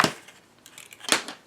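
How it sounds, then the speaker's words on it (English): Scissors snip paper while trimming a mini album cover, with two short, crisp cuts roughly a second apart and a quiet pause between them. "with the scissors."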